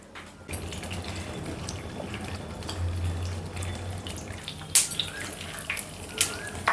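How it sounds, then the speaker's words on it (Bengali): Peanuts and dried red chillies frying in hot oil in a wok, a steady watery crackle and sizzle running throughout, with a few sharper pops and spatters near the end. "বাদামটি একটু ভালোভাবে ভেজে নিতে হবে শুকনো মরিচ আর বাদাম দিয়েছেন"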